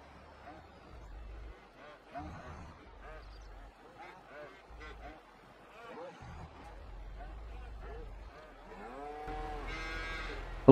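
Cattle moo repeatedly during feeding time on a Canadian farm, the calls fairly distant and rising in strength toward the end, with a low mechanical rumble and occasional background voices.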